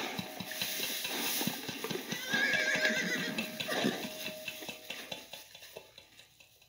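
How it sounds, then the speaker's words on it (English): Horses neigh and whinny at a distance over a steady background of rustling and clattering, with a faint repeated soft thumping like hooves; moderately quiet throughout and fading toward the end. "Far off in the north, I've seen horses with foals."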